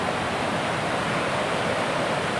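River running high just after a typhoon, a steady dense rush of flowing water heard close and loud with no other sounds.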